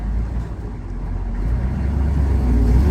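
A car drives past with a deep, rumbling engine and road noise that builds steadily louder over a few seconds.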